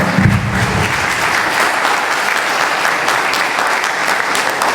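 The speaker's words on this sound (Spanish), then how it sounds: "Un aplauso." A seated audience at a talk bursts into loud, close applause, dense clapping that starts with a brief low thump and continues steadily, with no speech over it.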